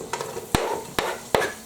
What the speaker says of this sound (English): it's time to start frying the onions